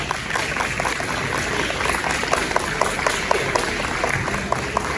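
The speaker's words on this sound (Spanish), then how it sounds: "Aplausos." An audience at a history lecture applauds steadily, a dense, even wash of many hands clapping at moderate volume throughout, with a few sharper claps poking out.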